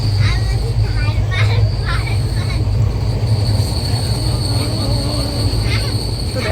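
The Malda Amrit Bharat Express is heard from inside as it runs: a loud, steady rumble and clatter of wheels on rails with faint squealing, with muffled passenger voices in the background.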